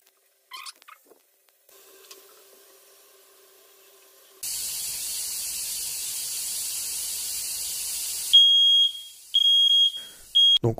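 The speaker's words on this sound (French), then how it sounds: "le détecteur monospectre réagit plus rapidement à l'humidité et du coup il déclare une fausse alarme" A single-spectrum smoke detector goes into false alarm after humidity sets it off, giving a steady loud hiss of spray that gives way to repeated shrill electronic beeps, with no one talking.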